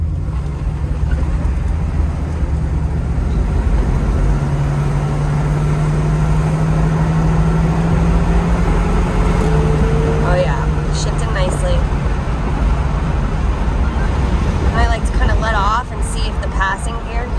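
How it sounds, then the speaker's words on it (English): A 1975 Pontiac Trans Am drones steadily from inside the cabin while cruising, with the engine pitch rising and dropping as the transmission shifts through its gears and people talk over it. "we'll let it go through the gears one more time so you can kind of hear the transmission one more time"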